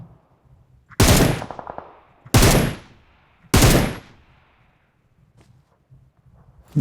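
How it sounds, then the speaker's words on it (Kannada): Three loud, sharp gunshot bursts from the battle royale game BGMI ring out about a second apart, each with a short rattling tail, followed by faint background clatter and distant game noises. "ನಾ ಶೂಟ್ ಮಾಡ್ತಾವ್ರಿ ಇವರು"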